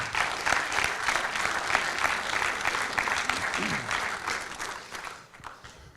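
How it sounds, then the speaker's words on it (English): Staff applaud at a semi-annual all-staff meeting: steady, dense clapping from a roomful of people, loud and sustained, thinning and fading out in the final second. "give yourself a round of applause"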